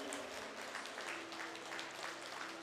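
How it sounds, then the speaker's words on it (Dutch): An audience at an exam presentation event in Exloo claps steadily as a dense, even wash of applause, moderately distant and fairly soft, with no voices over it. "Deze mensen willen graag een groot applaus horen van u."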